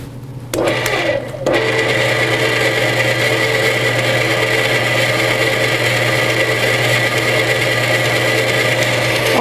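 A stand mixer's paddle beats shortening for torte batter, starting up after a brief pause and then running as a steady, loud motor whine with a constant hum.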